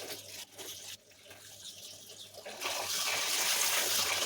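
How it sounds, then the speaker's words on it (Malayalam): Water poured onto boiled potatoes, a steady splashing gush that starts softly and swells louder and fuller near the end, alone without talk. "ഇത്തിരി വെള്ളം ഒഴിക്കുക."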